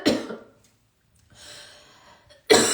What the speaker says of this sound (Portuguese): me deu uma crise de tosse